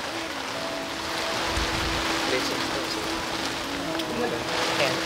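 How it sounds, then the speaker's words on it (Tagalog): Rain falling at the NAIA airport terminal in Manila, a continuous hiss of drops on surfaces that holds steady beneath a faint tonal hum, with a muffled voice briefly in the background. "inabot na naman tayo ng ulan"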